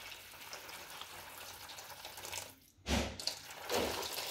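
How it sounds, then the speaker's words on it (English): Hot boiling water is poured into flour for chapati dough, a low splashing pour that cuts out briefly, then resumes in short gushes, close by. "Then you add your hot boiling water."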